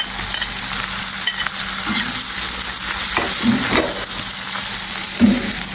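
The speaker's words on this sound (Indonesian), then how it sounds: "Kita panaskan dulu minyaknya, kemudian kita masukkan bumbunya." Spice paste stir-frying in hot oil for chicken nasi liwet, a loud continuous sizzle with crackling pops and occasional scraping stirs, close up and with no talking.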